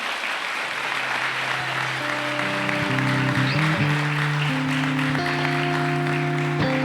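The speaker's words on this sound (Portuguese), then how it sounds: "Quem crê assim, dê uma salva de palmas para o Senhor." Applause from a church congregation fills the room during an evening service, while sustained organ or keyboard chords enter and shift underneath, the clapping continuing throughout.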